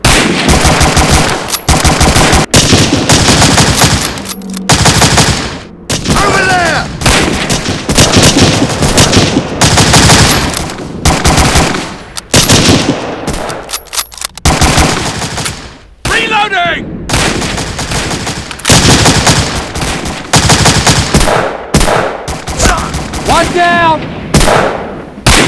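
Loud, dense bursts of machine gun and rifle fire as battle sound effects in a LEGO paratrooper animation, rapid rattling volleys with brief gaps, mixed with shouted voices.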